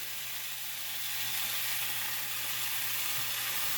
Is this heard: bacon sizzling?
yes